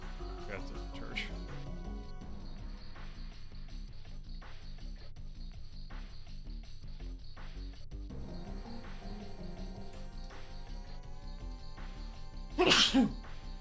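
One sharp, loud sneeze bursts out near the end, cutting over steady game music and chirping background sounds while someone talks.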